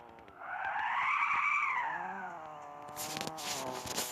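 In a car crash simulation game, a car skids with a loud, rising and falling tyre squeal, then a burst of clattering impact noise as it flips over.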